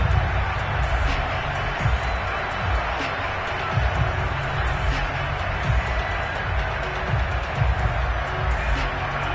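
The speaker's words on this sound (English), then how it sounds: "And the home crowd loves it." A home crowd at a football game roars with sustained cheering and scattered claps, a broad, loud wash of noise with a commentator's voice talking over it.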